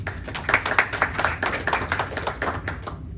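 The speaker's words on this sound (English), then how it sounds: "Please give yourself a round of applause." Class audience applauding, a few seconds of brisk, scattered hand clapping from a small group, fairly close, fading out at the end.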